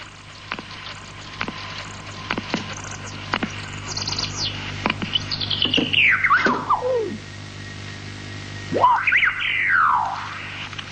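Chaffinch song: a series of sharp clicks and ticks followed by a descending trilled phrase, then a second rising-and-falling flourish, clear and fairly close over a low steady hum.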